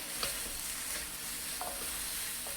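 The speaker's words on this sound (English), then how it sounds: "Sauteing" Cabbage and chicken stir fry sautéing in a pan, a steady close sizzle with a few soft scrapes of stirring, no voices.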